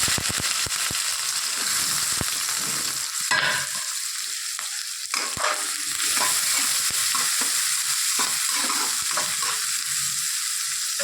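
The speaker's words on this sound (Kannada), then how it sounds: "ಚಟಪಟ ಹಾಕತ್ತಾವ್ರಿ ಈಗ ಈರುಳ್ಳಿ ಹಾಕ್ತಾರಿ" Onions drop into spluttering hot oil for a North Karnataka bitter gourd palya, setting off a loud, continuous sizzle with sharp crackling pops and occasional stirring scrapes.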